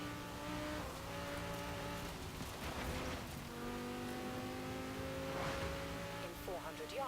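Supercar engine in Forza Horizon 4 on Fortune Island, a steady revving drone with gear shifts and tire noise, a voice talking faintly over it.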